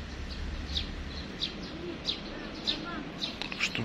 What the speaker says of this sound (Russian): Голубей, птиц, говорю, голубей, воробьев.